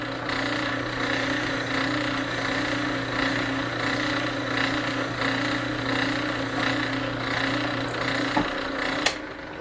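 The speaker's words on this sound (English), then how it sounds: "so we drill a 1/4 inch hole" A drill press bores a 1/4 inch hole in MDF wood, a steady motor whine with a droning hum running throughout, ending in a couple of sharp clicks.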